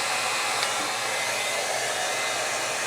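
A 1-inch hot air brush blows steadily while curling synthetic wig hair, a continuous close-up whoosh of hot air that holds an even level without pause.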